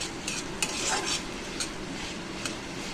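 Onion slices frying in an open, uncovered pan with a steady sizzle, while a utensil stirs and scrapes through them in a few distinct clattering strokes.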